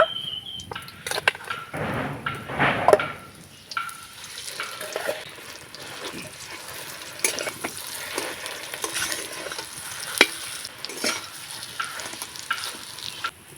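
Fresh chili and mashed potato fry in a pan with a busy sizzle, broken by repeated scraping and stirring strokes and a few knocks of the utensil, heard up close with no talking.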